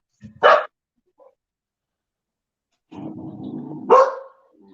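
A dog barks indoors at the front door, two sharp barks separated by a stretch of low rumbling growls and scuffling, fairly close and loud.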